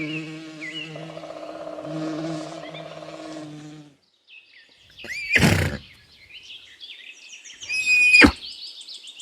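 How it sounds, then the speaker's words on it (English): A horse whinnies, a high, shrill neigh with a quavering fall, near and fairly loud, following other animal sounds and a pause. "horse"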